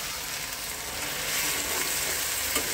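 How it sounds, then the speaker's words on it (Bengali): Dried fish (shutki) stir-fried in oil in a pan, a dense continuous hissing sizzle with faint stirring, close and steady with no voices. "দিয়ে এটা ভালো মতো করে কষিয়ে নিতে হবে।"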